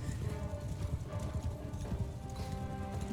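Cavalry horses charge in the samurai-era video game Shokuho, a dense thunder of galloping hooves with an occasional whinny, loud and continuous in battle.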